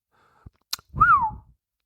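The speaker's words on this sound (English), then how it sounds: "that was a beautiful whistle." A short, clear human whistle glides up and then falls, preceded by a couple of faint clicks, alone in an otherwise quiet space.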